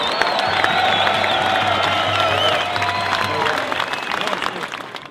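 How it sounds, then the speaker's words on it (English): Loud, sustained applause and cheering from an audience at a union rally, with whoops rising over steady clapping for the full five seconds and voices calling out within the crowd. "brought in a big round of"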